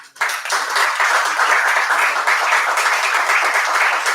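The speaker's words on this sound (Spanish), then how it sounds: "doctor Federico Roche Dielten, a quienes agradecemos y recibimos con un aplauso." An audience welcoming guests at a book presentation on the history of medicine in a bookshop, bursting into warm, steady applause that starts abruptly and holds evenly throughout, close and without talk.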